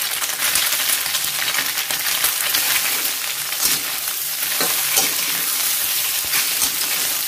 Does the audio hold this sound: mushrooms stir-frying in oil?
yes